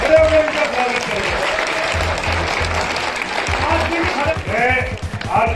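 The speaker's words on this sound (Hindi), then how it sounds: "एक बार जोरदार ताली से खड़े होकर इनका स्वागत करें।" Standing ovation at a political meeting for drivers, with sustained loud crowd applause and some voices and movement underneath, a speaker's voice briefly rising near the end.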